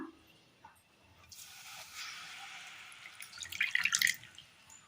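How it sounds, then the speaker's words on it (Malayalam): Water is poured into a pan on the stove while cooking a Kerala snack, a steady hissing splash that builds and ends in a few louder bursts. "അടുപ്പത്തൊരു പാൻ വെച്ച് കൊടുത്ത് അതിലേക്ക് ഒരൽപ്പം വെള്ളം ഒഴിച്ചു കൊടുക്കാം"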